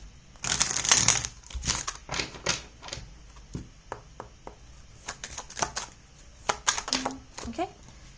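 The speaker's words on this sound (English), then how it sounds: "I feel like I need to shuffle this one more time." Tarot cards being shuffled by hand in short bursts of riffling and flicking, close and crisp, with scattered taps and pauses and a voice speaking briefly between the shuffles.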